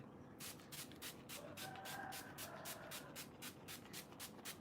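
A makeup setting spray bottle hisses in a rapid, regular series of short pumped bursts, close by and continuous for several seconds.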